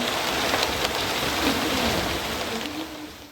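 Steady rain pours down in a dense, even hiss across the whole stretch, fairly close, with no voices and a faint low tone drifting underneath.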